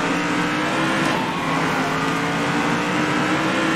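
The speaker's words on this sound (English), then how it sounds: "listen to me rev" A race car engine revs continuously and loudly in the Circuit Superstars racing game, on a cartoonish track, holding a steady, dense drone throughout.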